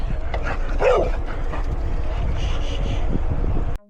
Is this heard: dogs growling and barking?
yes